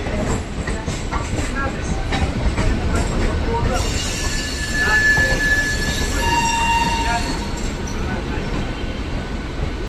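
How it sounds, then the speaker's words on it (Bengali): The Howrah–Prayagraj Rambagh Vibhuti Express rolls on rails toward cleaning, with a loud steady rumble of wheels and carriages, rhythmic clatter, and a high drawn-out wheel squeal building up partway through. "হাওড়া প্রয়াগরাজ রামবাগ বিভূতি এক্সপ্রেস। এ এখন ক্লিনিং এর জন্য যাচ্ছে।"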